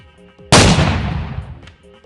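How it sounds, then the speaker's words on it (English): A single loud gunshot in the Roblox game cracks sharply and then decays over about a second, with faint background tones before and after. "I'm hearing gunshots from other tables."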